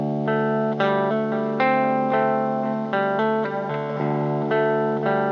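Electric guitar through an Earthquaker Devices Dispatch Master adding delay and light reverb, playing a sustained melodic part, steady and fairly loud with ringing notes and repeats trailing between attacks, no talking.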